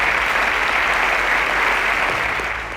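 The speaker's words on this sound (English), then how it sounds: "Round of applause for Enoch." A studio audience gives a round of applause to a contestant at a televised school science quiz semi-final in Nigeria: thick, even clapping sustained throughout, fading slightly at the end.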